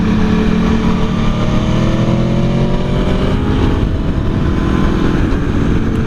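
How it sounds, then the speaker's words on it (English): Aprilia Tuono V4 1100 motorcycle engine pulling hard on a racetrack, a loud, continuous roar with the pitch climbing through the gears before a slight dip, close to the rider. "Listen to that engine."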